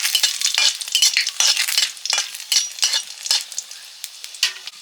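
Panch phoron spices, bay leaf and dried chilli sizzle in hot oil, a bright crackling hiss that rises in quick bursts as the pan is stirred, close and loud with no voices.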